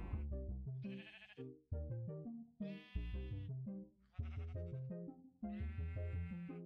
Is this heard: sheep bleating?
yes